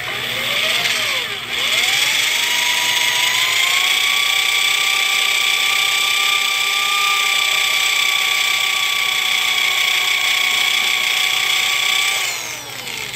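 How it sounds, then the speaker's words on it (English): A power drill whines steadily at high pitch, drilling off a bolt head on a Kia Soul's rear brakes, grinding continuously through metal for over ten seconds, spinning up at the start and winding down at the end. "So we're just trying to drill the head of this off."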